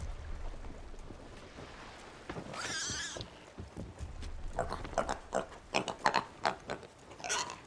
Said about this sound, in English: Shut up, pig!